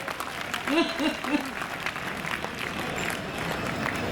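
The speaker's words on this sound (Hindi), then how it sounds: "उनके सम्मान में जोरदार तालियां बजाइए" A crowd at a kavi sammelan poetry event at the Kota Dussehra fair claps loudly and continuously, with a voice briefly calling out over the applause early on.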